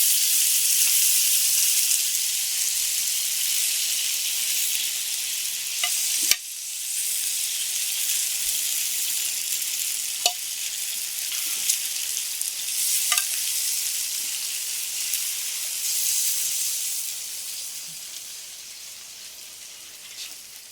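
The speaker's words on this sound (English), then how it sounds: "Now I'm going to take them off the griddle" Filipino pork barbecue skewers sizzle loudly on a Blackstone griddle, a steady close hiss of frying that fades slightly toward the end, with a few faint clicks of tongs as pieces are lifted off.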